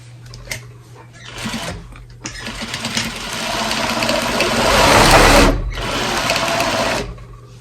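A sewing machine back-stitching a fabric potholder, loud close motor whir running in bursts that swell and pause, with a brief stop midway and a short spoken aside.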